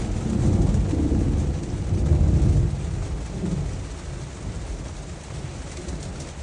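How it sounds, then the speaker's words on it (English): Thunder rolling through the Grand Canyon during a rainstorm, a long, deep rumble that swells and slowly fades over steady rain noise. "I've never heard thunder like that before."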